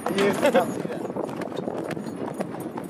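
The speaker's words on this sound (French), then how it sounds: "On a réussi à trouver une calèche pour 3 km avec Ahmed et son cheval." Hooves clip-clop steadily on a road as a horse pulls a carriage, heard under people talking and general outdoor noise.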